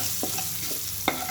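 Spices with turmeric and salt stirred in a hot pan while cooking aloo paratha filling: a steady low sizzle with a few brief spoon scrapes, one sharper clink near the end, close and fairly quiet, no talking.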